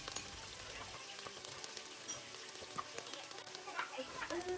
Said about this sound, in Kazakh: Майымыз қызғанда пиязымызды қуыра бастаймыз.